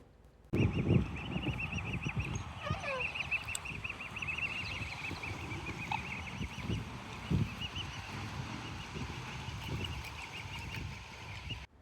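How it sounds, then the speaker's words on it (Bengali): Ducks crowd together on the water to be fed in an old Dutch town, giving repeated honking quacks over a steady background hum, some calls near and others farther off. "এখানকার হাঁসগুলো দেখতেও বেশ ভালো, তাই না?"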